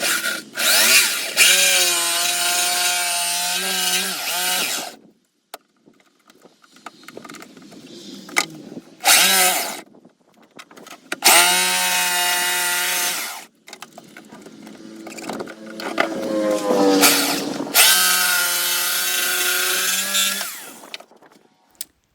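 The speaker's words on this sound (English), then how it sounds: "I'm just going to take my jigsaw and just cut that out." A jigsaw cuts through scrap wood in several loud bursts of buzzing motor whine, separated by short pauses, heard up close.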